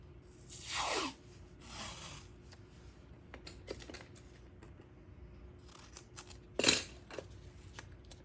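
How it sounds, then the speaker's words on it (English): 3M tape is pulled from the roll and torn for a wooden cutting board being prepped for paint and epoxy resin, with two long ripping pulls, scattered taps and handling, then another sharp tear, close and quiet. "Next, I'm going to do my 3M tape."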